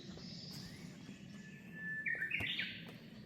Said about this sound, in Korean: 이제 저 새소리를 찾아서 한참 집중하게 됩니다.